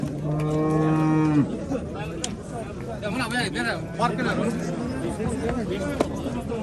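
Cattle moo loudly at the Jalalabad livestock market, one long close low call and then further lowing, set against steady crowd chatter and people talking nearby.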